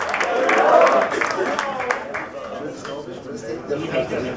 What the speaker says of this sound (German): Begeisternden Applaus, meine Damen und Herren.